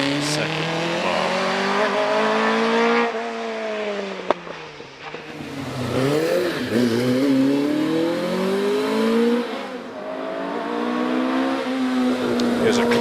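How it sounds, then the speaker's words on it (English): Classic Mallock Clubman's race car with a 1700cc pushrod engine on a hill climb, loud and close, revving hard through gear changes with rising and falling pitch, a brief lift-off dip, then pulling away strongly. "Here's a classic Mallock Clubman's car."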